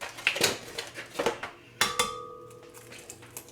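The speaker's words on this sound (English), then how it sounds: "I'm going to break each of these up and put them in" A handful of eggs cracked one after another against a container, crisp taps and light clinks spaced irregularly, close and fairly quiet in a kitchen with no talking.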